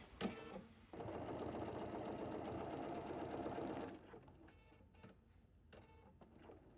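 A domestic sewing machine stitches crazy patchwork for a heart block, running steadily for about three seconds at close range, then stopping, followed by faint handling clicks and rustles.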